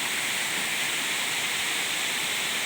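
Kaunayan Falls in San Luis, Aurora, pours as a steady, loud broadband rush of falling water, continuous and close with no voices over it.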